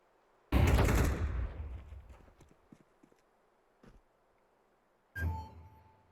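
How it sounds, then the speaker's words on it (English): A flashbang thrown in a video game goes off as one sudden loud blast that trails away over about two seconds. A second sharp burst with a ringing tone follows several seconds later. "Throwing flashbang."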